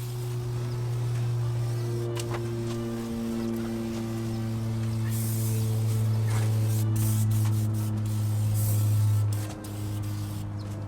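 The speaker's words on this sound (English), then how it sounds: "So let's just go ahead and use the aerosol spray here." Aerosol degreaser hisses steadily from a can onto a Land Cruiser engine bay, a continuous close spray lasting about ten seconds with a tonal hum underneath and a brief dip near the end.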